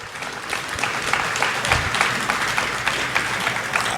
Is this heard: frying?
no